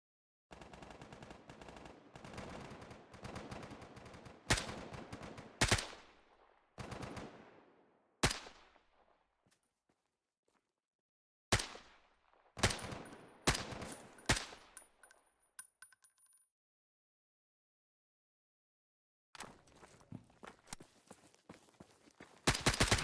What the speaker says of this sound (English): these army dudes seem to be engaged in some distant gunfire